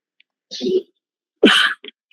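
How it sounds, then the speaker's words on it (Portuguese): Two sneezes from a person, loud and close, the first a muffled burst and the second sharper and stronger, followed by a brief snuffle. "Acho que eu estou espirrando de ansiedade para ver esses filmes todos."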